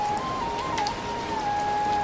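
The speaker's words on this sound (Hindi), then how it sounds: "इसी बीच बरसात शुरू हो गई।" Rain patters steadily in a dense, even hiss, with a faint thin tone running through it and no one speaking.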